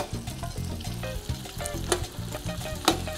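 Sausages and pancetta fry in plenty of olive oil for a seafood paella, a steady close sizzle with bright crackles and spits, a couple of sharper pops standing out, no talking.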